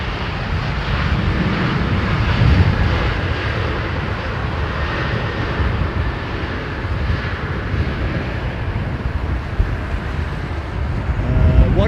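Airliner jet engines at London Heathrow Airport, a loud, continuous broadband roar with a whining tone and wind buffeting throughout, steady from start to finish.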